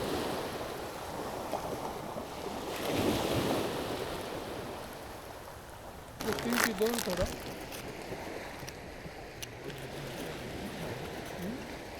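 Sea waves at a Mumbai fishing spot, swelling with the rising high tide and a light wind, wash steadily with a louder surge partway through, mixed with wind rumble on the microphone.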